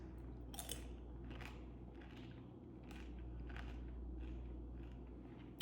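Close, steady crunching and chewing of a small raw, seasoned soft-shell crab eaten whole, with repeated bites and crackles over a constant low background hum.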